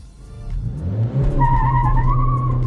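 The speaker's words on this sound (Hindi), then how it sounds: "so there is sufficient amount of wheel spin second gear में भी व्हील स्पिन करती है गाड़ी" Honda Amaze tires squeal and spin as the car launches hard in first gear, engine note climbing under a loud, sustained screech close by.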